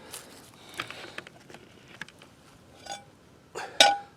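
A metal cooking pan is set down on a flattened spot at an outdoor bushcraft camp in West Virginia: a series of light clinks and scrapes, then a sharper, louder metallic clank at the end.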